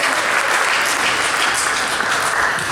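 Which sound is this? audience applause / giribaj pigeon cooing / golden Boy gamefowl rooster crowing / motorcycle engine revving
audience applause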